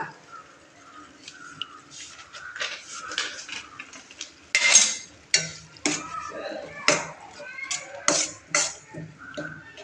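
A spoon stirring masala pasta in a pan, with repeated scraping and clinking of metal on cookware, irregular strokes growing louder toward the middle and continuing in short rhythmic bursts.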